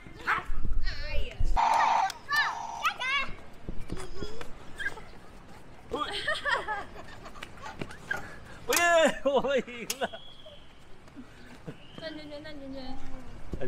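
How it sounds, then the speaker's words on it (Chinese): Dogs at a park dog gathering area bark, yip and whimper in scattered bursts, some close and loud, mixed with people talking nearby. "那里有很多狗狗，然后你看，狗狗聚集地。"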